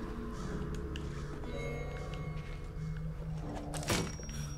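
Crows cawing in the video game Hello Neighbor 2, several harsh caws spread across the scene over quiet ambience, with a sharp louder burst near the end.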